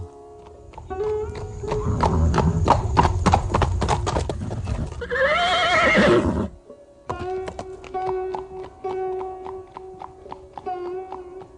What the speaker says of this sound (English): He rode into the city bringing with him his new wife, Jambavati, and the Syamantaka jewel.